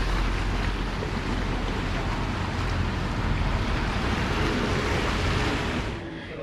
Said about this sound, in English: Approaching us right now is a water taxi.